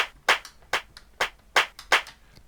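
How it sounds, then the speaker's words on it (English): Hand clap samples from a TR-707 drum machine, five bright, noisy clap bursts played in a steady repeating pattern with quick decays, heard alone. "Hand clap now."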